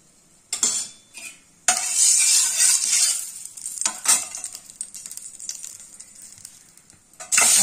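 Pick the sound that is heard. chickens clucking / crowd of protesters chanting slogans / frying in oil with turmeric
frying in oil with turmeric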